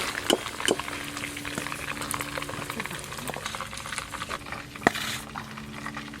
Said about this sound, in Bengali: এই চিকেনের পিসগুলো ভালো করে ভাজা হয়ে গেল